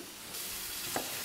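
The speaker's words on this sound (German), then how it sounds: "Das ist Braten." Onions frying in a home kitchen pan, a soft steady sizzle with a brief clatter or stir near the end, no voices over it.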